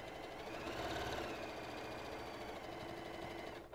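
A sewing machine stitches quilt pieces together at a steady, fast mechanical whir with a faint rhythmic knock, running continuously and fairly quietly before slowing at the end.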